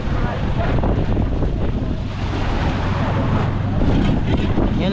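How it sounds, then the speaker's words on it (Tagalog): Strong typhoon wind roars steadily across the microphone on the Pacific Ocean, with the rush of large waves and water underneath, loud and continuous. "malakas ang hangin"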